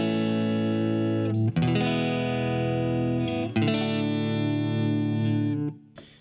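An electric guitar runs through a compressor effect on a Line 6 POD HD500X, with three sustained, distorted chords ringing evenly and a little reverb trailing after each one. The sound is loud and close, with no speech.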